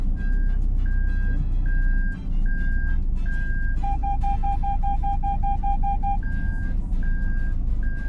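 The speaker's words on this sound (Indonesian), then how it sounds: "akhirnya keluarnya sensor aja, suara notifikasi bahwa ada mobil berjalan dari sisi kanan atau mungkin dari sisi kiri gitu" A Toyota Veloz's rear cross traffic alert chimes inside the car: a repeating higher beep at a steady pace, interrupted midway by a faster run of lower-pitched tones, over a low engine hum.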